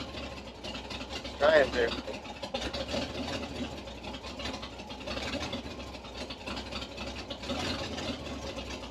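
A 1978 Chevy K10 4x4 engine runs at a rough, uneven idle, a low mid-pitched rumble going throughout, while someone speaks briefly over it.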